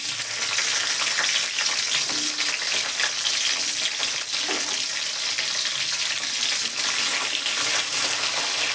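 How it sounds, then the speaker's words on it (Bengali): Cherries with bay leaves and fennel seeds sizzle in a pan over low heat, a dense continuous hiss with faint stirring, close and fairly loud, without speech. "গ্যাসটা লো করে চেরি ফলটা একটু নেড়ে নেব।"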